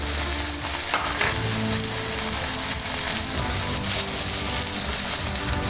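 Turmeric and salt fry in hot oil in a pan for tomato rice, a loud, dense, continuous sizzle with faint scraping and stirring, no voices.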